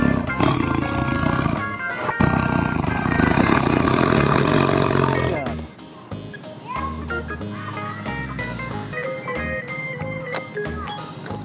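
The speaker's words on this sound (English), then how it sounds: "Very dangerous tiger." A tiger roars loudly and close, rumbling and sustained for several seconds, then gives way to softer musical accompaniment in an animal-sounds learning segment.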